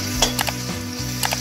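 Ginger garlic paste sautéing with browned onions in a pan, stirred: a low, bubbling sizzle with quick clinks and scrapes of a spoon, close and fairly loud.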